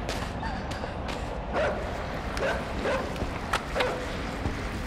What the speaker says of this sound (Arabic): في كلب عمال بيهوهو